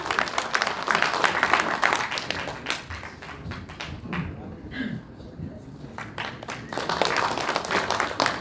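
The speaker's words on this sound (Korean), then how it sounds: "의장님 힘찬 박수로 맞이하도록 하겠습니다" A crowd at a football association chairman's inauguration ceremony in Ansan applauds steadily, dense clapping that dips briefly midway then swells again, with a faint murmur of voices underneath.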